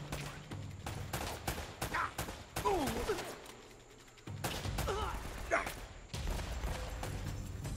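Gunfire in a firefight in Uncharted: Drake's Fortune, rapid bursts of shots alternating with quieter pauses, grunts and vocal sounds heard between volleys, moderately close.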